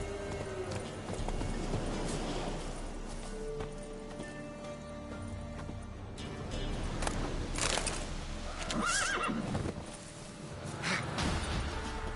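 Roach, a horse in The Witcher 3 video game, gallops with rapid clip-clop hoofbeats over a dense, busy game soundscape, with a short whinny-like burst partway through and a brief voice heard in the mix.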